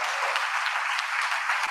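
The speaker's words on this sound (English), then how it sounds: "Give him a big round of applause." Indoor audience at a community meeting clapping for a speaker, a dense, even patter of many hands filling the short stretch with no break.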